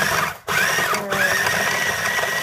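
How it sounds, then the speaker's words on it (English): An electric grinder whirs steadily as it grinds Cuban roast pork seasoning, a loud continuous motor drone with two brief dips where it pauses, close and alone without talk. "I grind everything together."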